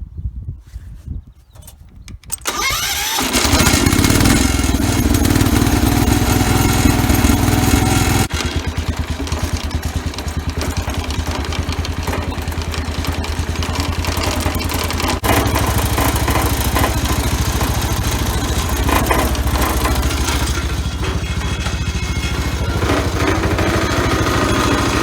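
A Wheel Horse garden tractor engine runs steadily and loud at close range, with a rattling, banging bonnet whose worn rubber vibrates at certain revs; the drone changes pitch partway through.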